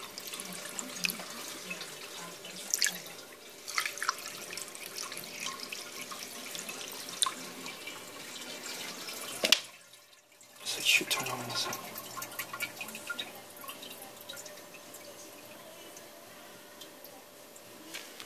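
Water poured by hand into an aquarium overflow box, a quiet steady trickle and splash with small clicks, a brief pause midway, then the flow resumes.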